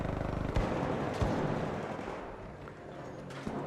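An enemy turret in ARC Raiders fires in the distance: a rapid rattle of shots opens, then a few heavy booming blasts follow over a dense, rumbling background.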